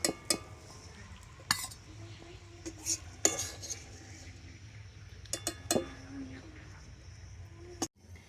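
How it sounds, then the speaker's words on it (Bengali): Boiled jackfruit seeds tipped into a metal strainer in a kitchen, with scattered clinks and knocks of utensils and a brief splash of draining water, quiet and close, a faint voice now and then. "তো একটা ছাঁকনি নিয়েছি, তো ছাঁকনি করে জল ঝরিয়ে নিয়ে নেব।"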